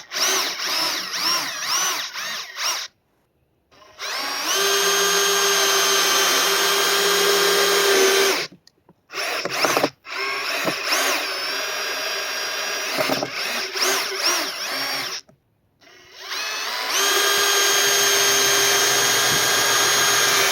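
A Metabo hammer drill drives deck screws in three loud, sustained bursts of a few seconds each, with brief pauses between runs and no talking.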